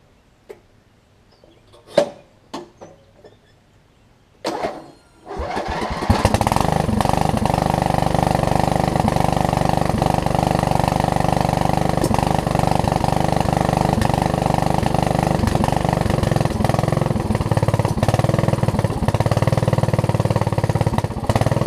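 A Craftsman LT4000 lawn tractor engine cranks in a few short bursts, then catches and runs steadily, a loud continuous mid-pitched drone with an exhaust that sounds as if the muffler is clogged.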